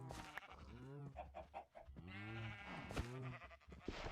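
Sheep bleat repeatedly in Minecraft, several wavering, nasal calls overlapping closely and loudly in a crowded pen, with no talk.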